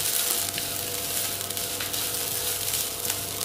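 Fresh grated coconut dry roasting in a pan produces a steady, close crackling sizzle with a few soft stirring scrapes, continuous and even, with no one speaking.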